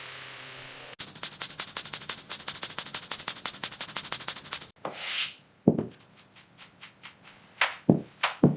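Sanding strokes on the bodywork of a Mercedes 300SL Gullwing being restored, a fast, even rasping rhythm for several seconds that stops abruptly and gives way to a few scattered knocks and scrapes.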